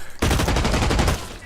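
Rapid automatic gunfire in the online shooter Blacklight Retribution, a loud, dense burst of shots starting abruptly and continuing steadily for over a second.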